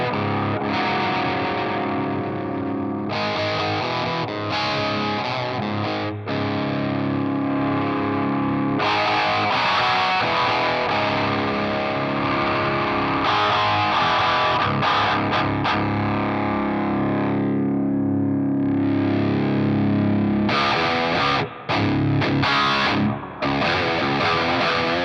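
Electric guitar played through a Naomi Crunch distortion pedal at full gain, thick saturated chords ringing continuously and loudly with changes between chords and brief breaks near the end.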